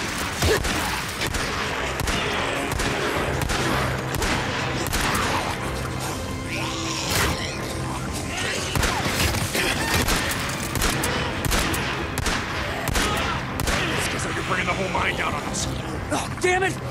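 Heavy gunfire in the video game Days Gone, continuous volleys of loud shots and impacts over a loud mix, with voices shouting during the firefight.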